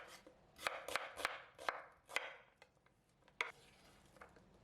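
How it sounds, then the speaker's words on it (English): A knife chops yellow onion into strips on a cutting board: about eight crisp, close strikes in an uneven rhythm, then a pause and one last cut. "Start with cutting 150 grams of yellow onion into strips."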